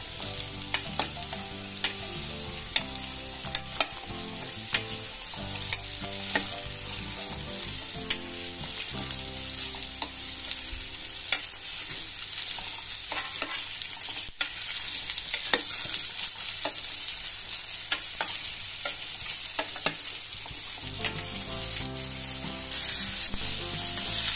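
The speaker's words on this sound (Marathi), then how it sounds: "आपण हे सगळे काप त्या तुपामध्ये टाकून घेऊ. आणि व्यवस्थित हलवून घेऊ." Sweet potato slices fry in hot ghee while being stirred, producing a loud, continuous close-up sizzle with frequent scraping and clicking stirring strokes throughout and no talking.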